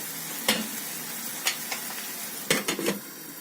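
Meat sauté simmers in a covered pot, a steady soft bubbling hiss broken by a few sharp clinks and taps of utensil on metal, close and with no talking.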